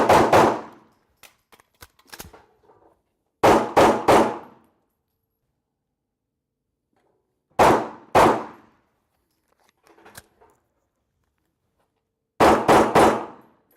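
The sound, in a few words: live pistol fire at the shooting range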